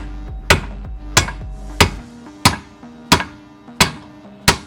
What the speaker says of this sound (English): trying to hit the axles out of the hubs